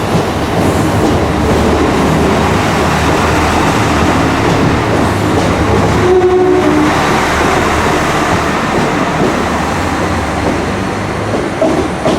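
Steady rumble of an Irish railway train rolling along the rails into Adelaide station, Belfast, in damp weather, loud and continuous, with a brief squeal of brakes partway through as it slows.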